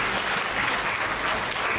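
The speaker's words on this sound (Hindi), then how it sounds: "एक बार जोरदार ताली बजा दीजिए" An audience at a comedy poetry show claps loudly and continuously, a dense, even wash of applause with no gaps.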